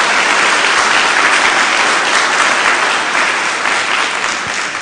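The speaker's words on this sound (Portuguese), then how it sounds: "Dá uma salva de palmas a Jesus" Loud, dense round of applause from a church congregation praising Jesus, steady and sustained throughout with no speech over it.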